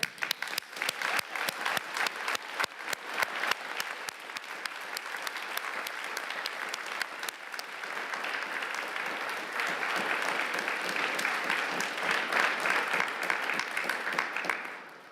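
Sustained audience applause at a university winter conferring ceremony, dense crowd clapping that holds steady and swells slightly louder midway before tapering off at the end.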